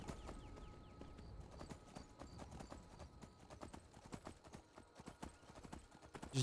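Game horse hooves clop in a steady, even trotting rhythm, quiet and close, with a faint whinny-like tone and soft background ambience beneath.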